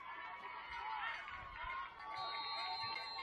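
A crowd murmurs steadily in the stands at a home-opener Oklahoma high school football game, Woodward Boomers vs Guthrie Bluejays, with chatter and faint distant calls under a commentator's voice throughout.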